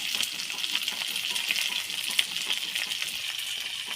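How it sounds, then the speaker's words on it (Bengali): Tomato and green chillies fry in hot oil in a pan with a steady, close sizzle and light crackling, plus one brief clink partway through, and nobody speaks. "একটু ভালো করে ভেজে নেব"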